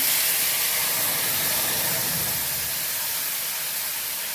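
A paste of ginger, green chilli and cumin frying in hot oil gives a steady, even hiss with no gaps, slowly easing off a little.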